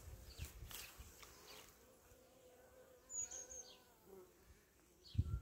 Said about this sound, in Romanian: să zboare mai bine albinuțele.